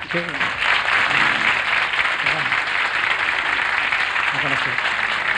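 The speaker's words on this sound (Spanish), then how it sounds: "Yo creo que ellos se merecen un gran aplauso" Sustained applause from a television studio audience at a 1978 Chilean variety show fills the clip, steady and dense, with some voices or music faintly mixed underneath.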